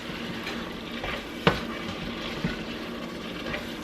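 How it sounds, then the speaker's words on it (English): Ground meat, onions and garlic sizzle in a pan for homemade chili, a soft steady fry hiss close by, broken by a couple of sharp clicks of a spoon against the pan. "I'm going to go ahead and add my onions and garlic, and we're just going to cook that just for a few minutes"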